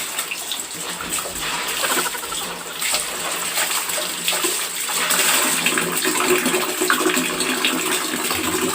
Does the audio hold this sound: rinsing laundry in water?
yes